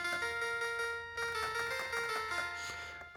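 A 1987 Casio PT-100 mini keyboard plays a thin, buzzy synth lead line, a string of bright sustained notes stepping up and down, close and steady with no voices.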